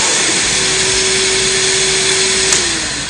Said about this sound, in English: The solution's going to flow, our brush is going to spin, and my vacuum kicks on.